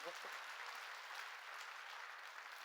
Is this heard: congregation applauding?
yes